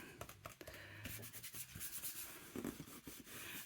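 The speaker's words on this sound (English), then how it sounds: "it rubs the colour away" Paper is rubbed to lift colour off a sheet while making a junk journal folio, a close, continuous scratchy friction with uneven strokes and no talking.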